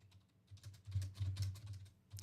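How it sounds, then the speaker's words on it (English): Rapid, irregular clicking of fingers typing on a computer keyboard during a live sports card break stream, with close keystroke taps in uneven bursts and no talking. "He's typing."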